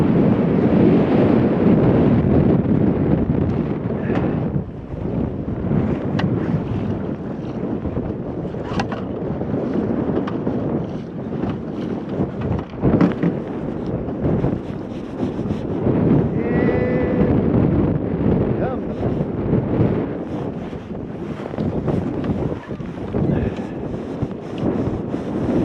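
Strong, steady wind roars across the microphone aboard a small fishing boat out on the water after flathead, loud and continuous with gusty surges throughout.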